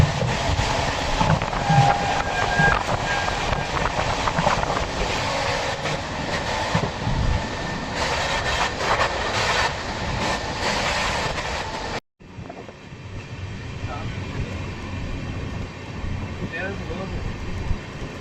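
A 15675 Guwahati Intercity express runs on rails between NJP and Guwahati, nearing Kamakhyaguri station: a loud, steady onboard rumble and rattle fills the whole stretch, broken by one brief dropout before the clatter resumes.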